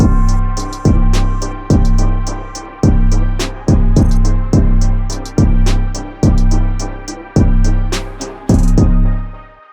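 Muted, EQ-filtered synth strings with stereo movement pulse under a steady beat of thumping kicks and ticking hi-hats, each chord fading before the next hit.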